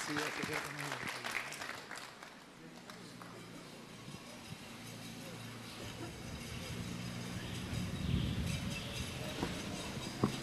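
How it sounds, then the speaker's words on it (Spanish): An audience at a church talk applauding for the priest, a sustained wash of clapping heard from some distance and fairly faint throughout, swelling slightly toward the end. "le damos al Padre aplausos fuertes"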